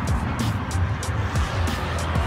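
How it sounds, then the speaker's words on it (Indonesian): Car passing by on a road outside, a fairly loud motor rumble that swells as the vehicle goes past, heard alone without speech. "Tuh ada mobil."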